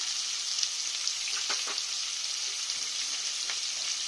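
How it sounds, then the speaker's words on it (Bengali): Papaya and potato pieces dusted with turmeric frying in hot oil for a koi fish curry, a loud, even hiss with a couple of light scraping touches in the middle, no talk. "পেঁপে আর আলুটা আমি লাল লাল করে ভেজে নেব।"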